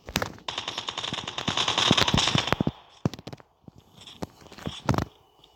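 Gunfire from enemies shooting at the player in Call of Duty: a dense, loud burst of automatic fire for about two and a half seconds, then scattered sharp single shots and short bursts.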